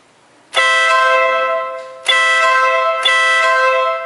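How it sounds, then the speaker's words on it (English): An air horn fitted to a Ural motorcycle blares three times, a long loud blast followed by two shorter ones, bright and brassy, close up with no talk. "we will demonstrate the sound of this horn"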